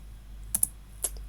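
A few quick keystrokes on a computer keyboard while Python code is entered, three light clicks in a short burst, close and clear in a quiet room.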